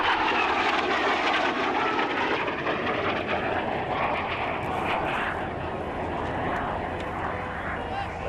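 A Patrouille Suisse jet, one of the Swiss Air Force display team's white-and-red aircraft, roars inbound at about 400 knots during an airshow display, a loud sustained rush of engine noise with a voice speaking over it.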